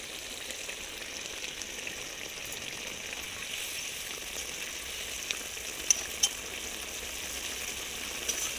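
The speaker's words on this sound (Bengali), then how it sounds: "আমাদের কোপ্তা কারিটা প্রায় রেডি হয়ে এসেছে, আর অল্প একটু ফুটিয়ে নিয়েই নামিয়ে নেবো এটাকে" A pot of kochu flower kofta curry bubbles in its gravy, giving a steady, soft sizzle and hiss with a few faint pops and clicks, close by and alone without talk.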